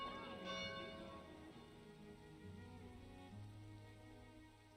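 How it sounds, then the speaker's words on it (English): Village bell rung in Farthest Frontier, a resonant metallic clang that strikes at the start and rings out, decaying slowly over a soft ambient wash and low tones, with no one talking. "I suppose we better ring the bell."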